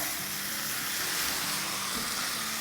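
Medium pieces of chicken breast, about 1.5 pounds, tipped into a hot pot for a lapeta burger filling, sizzling and frying steadily with a broad, even hiss throughout, close and moderately loud, with no voices.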